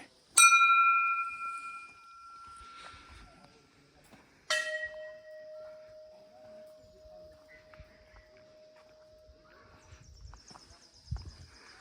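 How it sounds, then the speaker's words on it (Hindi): Temple bells at Patal Bhuvneshwar in Uttarakhand are struck twice, some seconds apart. Each strike rings out clearly and close, then fades into a long, thinning hum over faint background shuffling. "अनेक घंटियाँ हैं यहाँ पे।"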